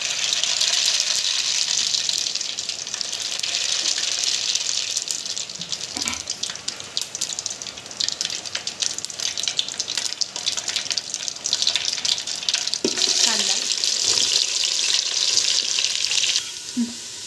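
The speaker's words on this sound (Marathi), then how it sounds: "तेल तापलेलं आहे, मोहरी टाकूया।" Mustard seeds sizzle in hot oil for a tempering, a dense, steady crackling hiss that runs loud and continuous, with a few sharper pops and spits rising out of it.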